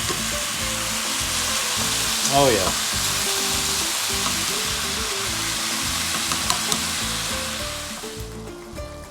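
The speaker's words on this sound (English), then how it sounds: "You'll hear that sizzle." Ground meat frying with chopped peppers and onions in a hot pan gives a loud, steady sizzle, with a brief scrape of stirring partway through and a short spoken remark over the crackle.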